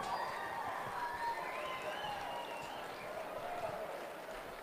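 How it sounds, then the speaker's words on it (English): Steady applause from a crowd at a livestock auction, dense and continuous, fading slightly toward the end, with faint voices mixed in. "And one more round of applause for Bryn Looper."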